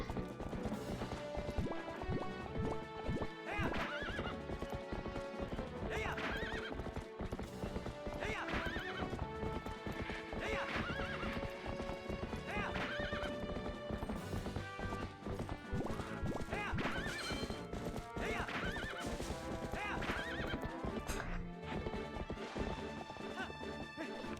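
Rapid, rhythmic clip-clop of a galloping horse's hooves in a video game, with repeated whinnies rising above the hoofbeats and game music running throughout, loud and continuous.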